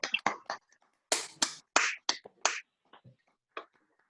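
Scattered, uneven claps and snaps from a few unmuted participants on a city board of commissioners video call, sharp and close, sometimes overlapping, with gaps between them.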